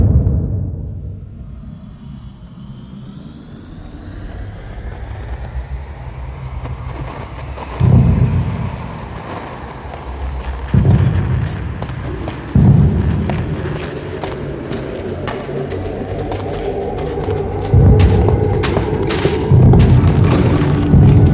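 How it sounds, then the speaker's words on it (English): Deep booming blasts land repeatedly in the game Minecraft as the Wither explodes, over a rumbling, crackling backdrop, with a rising sweep early on and a heavy thud around the middle; loud and close. "a final massive explosion"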